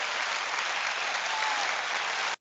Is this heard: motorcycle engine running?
no